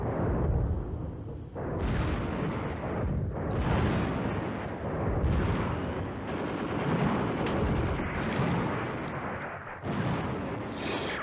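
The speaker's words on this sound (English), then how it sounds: "I think this artillery is really blunting these attacks here." Artillery fire in the wargame Command Ops 2, covering Axis fighting around Nijmegen: loud, continuous booming barrages with repeated heavy blasts rolling one into another, close and dense throughout.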